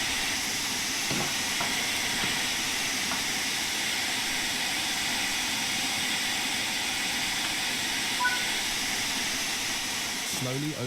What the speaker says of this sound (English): You'll be driving this Stanier Class 8F steam locomotive.